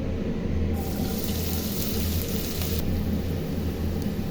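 Chopped onion frying in oil in a pan already used for frying eggs, a steady dense sizzle that holds loud and continuous throughout.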